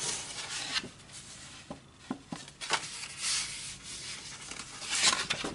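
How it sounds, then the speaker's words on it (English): A surface is burnished by hand, giving faint, close rubbing strokes in short uneven bursts with small scuffs between them. "Give that a quick burnish."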